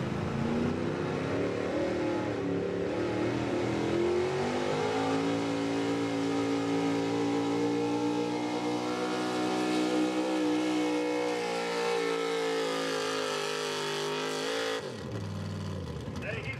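A small block high output pulling truck engine revs hard and sustained at a truck and tractor pull, loud and droning with rising pitch, while an announcer talks over it before the engine cuts off near the end.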